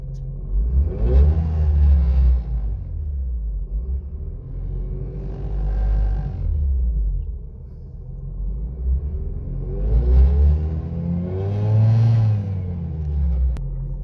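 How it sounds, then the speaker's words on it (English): A 20B three-rotor rotary engine in a parked car is revved hard to clear carbon. Three long, loud rising-and-falling revs come close up, each rasping up to a peak and dropping back to a rumbling idle between them. "So every time you run it, you want to try to rev it out and actually get some of that carbon out."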